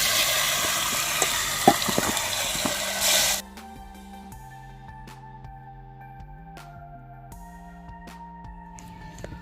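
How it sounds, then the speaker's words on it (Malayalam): Pieces of choora fish fry in hot oil in a pan for a Kerala fish pickle, giving a loud, dense sizzle with a few sharp crackles. After about three seconds it cuts to soft music. "അപ്പോൾ നമ്മുടെ മീൻ മൊത്തം വറുത്ത് കഴിഞ്ഞിട്ടുണ്ട്."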